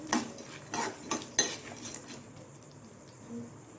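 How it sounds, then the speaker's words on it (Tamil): A spatula scrapes three kinds of lentils dry-roasting in a pan for a peanut-onion chutney: a few close metallic scrapes and clinks in quick succession, then quieter, sparser stirring, with no voices. "மூணு பருப்புமே நல்லா கோல்டன் ப்ரௌன் வர அளவுக்கு வறுத்துக்கோங்க"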